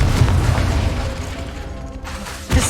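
A Confringo fire spell exploding in Hogwarts Legacy, a loud deep boom that rumbles and fades, followed by a short thump at the end.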